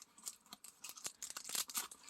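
Quick crisp snips and crinkly rustling of scissors cutting through packaging, close by, in irregular bursts.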